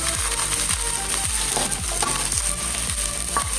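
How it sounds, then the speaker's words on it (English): Onions frying in vegetable oil in a large saucepan, a steady loud sizzle with repeated clattering stirs in a regular rhythm, no voices. "in a large saucepan, I have some vegetable oil, and to that I'm going to add about 2 onions"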